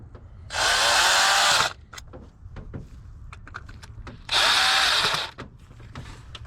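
A power driver runs screws back into an interior panel of a 2002–2007 GMC Envoy or Chevy TrailBlazer, two loud whirring bursts of about a second each, with small clicks and handling noises between them.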